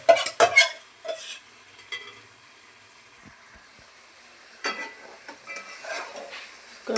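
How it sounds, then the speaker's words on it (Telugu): Fish pieces are gently stirred into a tamarind pulusu curry in a pan, giving a few close scraping clinks at the start and end over a faint simmer, with no talking. "కొన్ని చిన్నగా కలుపుకోవాలి ఫ్రెండ్స్, ఇరుగుతాయి లేకపోతే."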